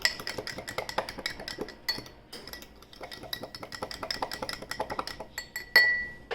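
A utensil whisks eggs and milk in a bowl for an omelet, quick steady clinks against the bowl that pause briefly, then resume with a sharper ring near the end.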